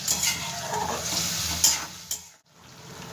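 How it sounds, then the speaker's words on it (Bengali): Whole spices frying in a pan for a potato curry, making a steady, close sizzle with occasional stirring scrapes that briefly drop away near the end. "একটু এই মশলাটাকে আমি আগে ভেজে নেব"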